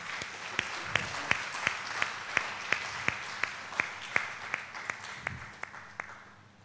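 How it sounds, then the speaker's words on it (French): An audience at a social entrepreneurship conference on education claps steadily, with distinct individual claps standing out above the crowd's sustained applause at moderate volume. "Merci d'applaudir très fort"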